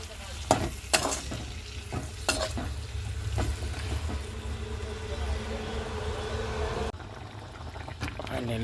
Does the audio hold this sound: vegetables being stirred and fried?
yes